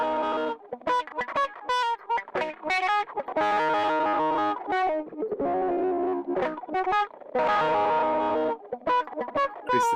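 A wah-wah effect rack with saturation in Ableton Live 12 sweeps over a gnarly, distorted guitar-like line, with choppy notes and bursts, close and loud, and no talking.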